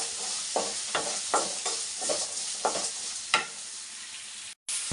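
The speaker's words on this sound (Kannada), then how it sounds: "ಈಗ ನಾನು ಟೊಮೊಟೊ ಹಾಕೋತಾ ಇದ್ದೀನಿ. ಇದು ಅಷ್ಟೇ ಚೆನ್ನಾಗಿ ಫ್ರೈ ಆಗಬೇಕು" Tomatoes frying in a pan with onions for brinjal sambar: a continuous soft sizzle punctuated by rhythmic scrapes and stirs of a spoon, close and moderately quiet, with no talk.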